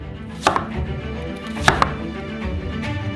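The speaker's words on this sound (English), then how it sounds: "Now you need 3 onions. We cut them in half." Three onions being halved with a knife on a cutting board: a few sharp, close knocks of the blade striking the board, in two pairs spaced about a second apart, with quiet handling between them.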